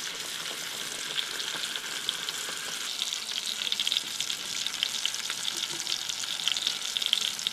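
Ribeye steak frying in a pan, a steady close crackling sizzle with fine spitting pops that grows a little busier toward the end, with no talking.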